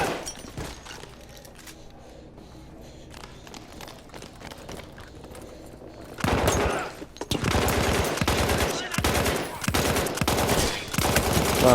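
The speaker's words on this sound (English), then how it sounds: "Wow, I'm missing every shot." Bursts of gunfire from a Battlefield 1 campaign battle, sparse and distant at first, then loud rapid volleys of automatic fire packed densely through the second half.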